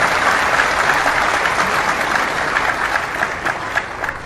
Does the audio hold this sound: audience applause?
yes